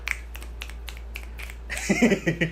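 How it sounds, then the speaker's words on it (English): Someone on a casual Pokémon chat show snaps their fingers, a handful of sharp, light clicks spaced out unevenly, followed by a brief burst of nearby talking and rustle. "I can't snap well"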